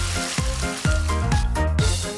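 Water poured into a hot pan of sizzling ostrich stew with sliced carrots and honey, a loud, steady hiss and bubbling that pulses in short waves, close by and with no talk.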